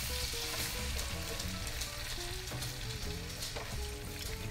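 A garlic-butter sauce with half and half simmers and sizzles in the pan as it is stirred constantly, giving a steady, close bubbling hiss with no voices.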